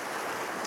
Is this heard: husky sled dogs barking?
no